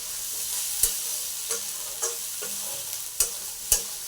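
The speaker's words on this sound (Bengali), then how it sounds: "তো সয়াবিনটা দেখো ভাজা হয়ে গেছে," Steady sizzling of soybean chunks frying in a pan, with about six crisp scrape-and-tap strokes of a spatula spaced irregularly over the constant crackle, close and fairly quiet.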